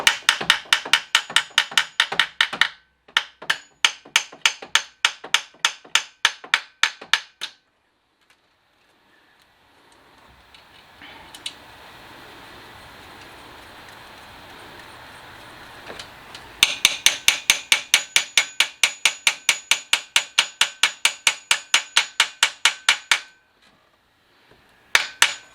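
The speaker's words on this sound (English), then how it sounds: "you just hammer that till it's flush with the front of the head" Rapid metallic hammer blows driving a part flush into a Mercedes M273 cylinder head from an ML550, in long rapid bursts, close and loud, separated by a quieter stretch of low hiss and rattling.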